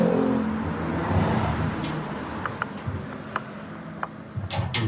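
Vehicle traffic on San Marcelino highway in Zambales, a car passing and fading away at moderate distance, then lighter road noise with a few small ticking knocks.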